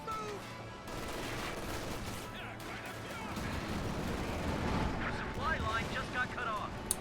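Machine gun fire and battle noise from Company of Heroes 2, with a captured MG firing bursts amid explosions and mortar rumble, fairly quiet and mixed under other combat sounds.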